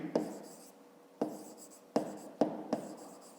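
Pen writing by hand on paper during a fifth-grade math exercise, with four short scratchy strokes, each a sharp tap trailing into a soft scrawl, spaced unevenly and close up.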